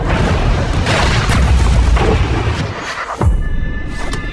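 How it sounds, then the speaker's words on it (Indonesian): A movie explosion in a city street hits a truck: a loud, sustained rumbling boom that swells over several seconds, then a sharp secondary thump as the roar fades. "Kemudian muncullah sebuah ledakan di tengah kota yang menimpa truk mereka."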